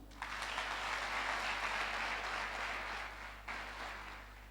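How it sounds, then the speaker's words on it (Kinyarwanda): Audience at a secondary school culture and heritage competition claps for the winners, a dense burst of applause that starts abruptly, holds steady, then thins and swells again, heard from within the hall over a low electrical hum. "mubahe amashyi"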